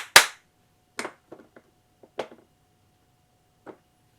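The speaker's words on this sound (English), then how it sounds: "And so 2 claps." Two sharp hand claps ring out close and loud, spaced about a second apart, each followed by a few fainter claps or taps in a quiet room while an electronic controller listens for a microphone trigger.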